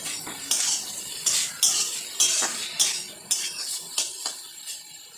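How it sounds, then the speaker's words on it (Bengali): A spatula stirs a vegetable curry of leafy greens in a pan until it dries out. Rhythmic scraping and metallic clinks repeat about once a second over a light sizzle, close and fairly loud. "এবার একটু নাড়িয়ে নাড়িয়ে চাড়িয়ে নামিয়ে নেব"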